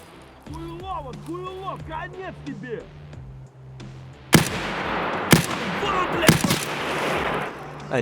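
SKS rifle shots ring out in Escape from Tarkov, several sharp loud cracks spaced about a second apart, following a stretch of someone speaking over the game's ambient hum.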